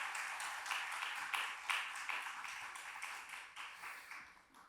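An audience at a missionary appreciation seminar claps steadily in a sustained round of applause, moderately distant and even, fading slightly toward the end.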